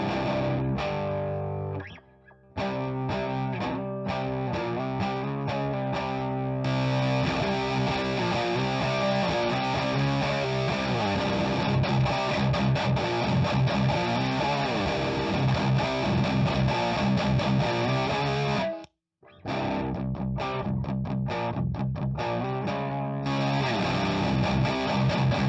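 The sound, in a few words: guitar through distortion pedal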